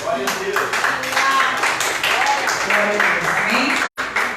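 A church congregation applauds with steady crowd clapping mixed with loud voices and shouting throughout, ending in a brief cut.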